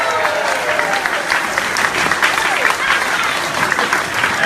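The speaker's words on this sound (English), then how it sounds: "How about another big round of applause for the best lieutenant governor in the country, Boyd Rutherford." Crowd applauding loudly and steadily at an outdoor waterfront barbecue held by a state governor, dense clapping filling the whole stretch with some voices mixed in.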